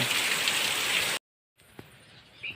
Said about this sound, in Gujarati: જો આવી રીતે વરસાદ વહે છે